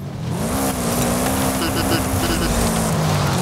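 Car engines roar and rev steadily during a race in the video game Forza Horizon 5, including an Audi Sportback; loud continuous drone with a rising engine tone, and a voice talks over it.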